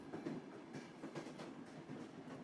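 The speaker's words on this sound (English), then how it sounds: "With every soft chug of the train" A train rolls along the tracks through rolling Highland hills with a soft, steady rumble and faint rhythmic clatter, even and continuous with no voices.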